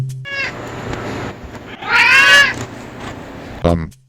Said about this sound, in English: look, one of my cats is even on my desk